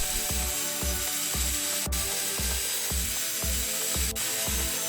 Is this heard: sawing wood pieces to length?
yes